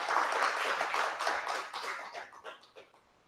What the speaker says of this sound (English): give applause for Dr. Budi.